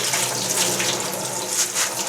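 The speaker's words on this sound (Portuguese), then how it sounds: "E vamos dar mais uma lavada nesses grãos" Beans rinsed under a running kitchen tap, a steady close gush of water splashing over the grains in a sink, continuous and alone for about two seconds before cutting off.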